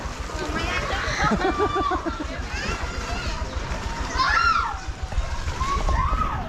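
Kids splash and jump into shallow water, with sloshing and shouting children's voices throughout, close by and lively.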